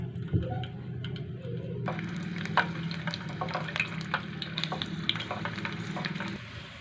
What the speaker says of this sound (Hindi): हम लहसुन को अच्छी तरह से ब्राउन कर लेंगे।